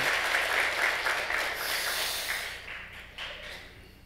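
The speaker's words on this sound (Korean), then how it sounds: "박수 한번 더 하겠습니다" A church congregation applauds during a Sunday afternoon worship service. The clapping is fairly faint and steady, then thins out and fades over the last couple of seconds.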